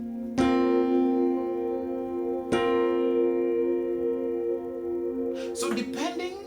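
A suspended triad played as a chord inversion on a keyboard, two struck chords each ringing out with sustained tones, followed by a brief cluster of higher notes near the end.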